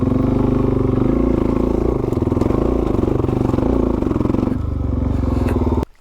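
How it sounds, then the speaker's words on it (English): A small, low dirt bike rides single-track trail, its engine droning and buzzing steadily up close with slight rises and dips before cutting off abruptly at the end. "This is like a really good bike to learn on."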